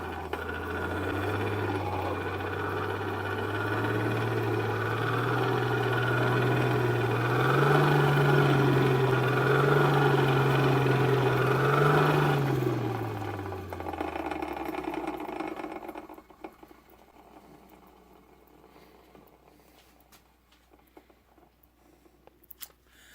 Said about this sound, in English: gears down the power from this crank on the side of the gearbox to the point where the fan is going pretty good clip